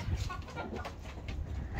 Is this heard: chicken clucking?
yes